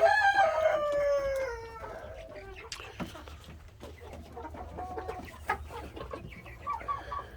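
On a homestead on a rainy day, a rooster among Brahma hens opens with a loud, close crow, followed by scattered soft clucks and rustling from the flock.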